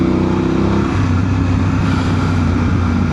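A motorcycle ridden solo on a pre-iftar ride, its engine droning loud and steady throughout with a low rumbling hum and wind noise, no talk over it.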